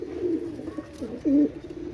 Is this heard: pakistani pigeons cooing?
yes